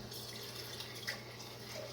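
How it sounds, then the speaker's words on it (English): Water running from a kitchen tap to rinse out a jar, a steady soft splashing flow lasting a couple of seconds, faint and close. "I will rinse it out though."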